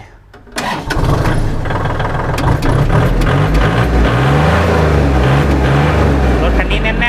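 A Kubota L4018 tractor, registered in 2018 with about 2,372 working hours, starts up and settles into a steady, loud diesel rumble that runs close by without a break.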